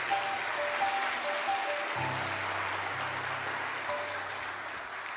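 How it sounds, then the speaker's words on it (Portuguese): A church congregation applauding during a sermon, a steady wash of many hands clapping that blends into a rain-like hiss, heard at even loudness from some distance with a low hum underneath. "Agora, pode aplaudir Jesus."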